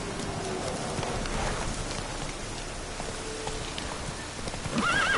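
Roach, a horse in a Witcher video game, gallops with steady clip-clopping hooves amid a constant hiss of rain, then lets out a loud whinny near the end.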